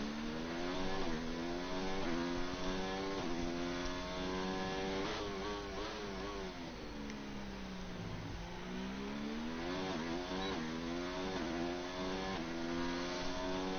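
A Formula 1 car in F1 2019 at Bahrain revs hard and loud, its high-pitched engine whine climbing through repeated upshifts with a stepped, sawtooth pattern. It drops in pitch around a corner, then winds back up, with no voices.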